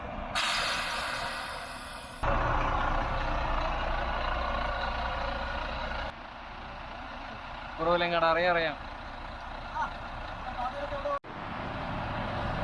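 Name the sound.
bus engine running at start-up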